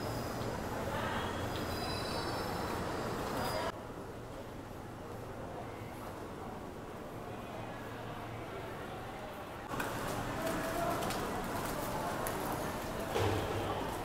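KRL commuter train station in Jakarta, heading for the Cikarang platform: a steady low rumble of station and rail noise with distant murmuring voices, shifting in level as the listener moves through the concourse.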